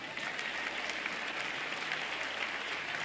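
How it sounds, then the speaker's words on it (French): Congregation applause during a church sermon on prophecy, a dense, even wash of clapping held at a steady moderate level throughout, somewhat distant and with no talking over it. "applaudissements pour ça."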